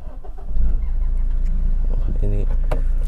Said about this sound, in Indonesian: Ini start dari starternya aja itu udah beda.